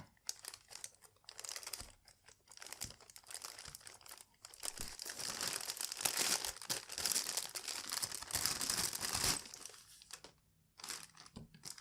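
A plastic bag on a three-stage water filter crinkles and crackles up close, handled in irregular bursts with a dense stretch in the middle and brief pauses between.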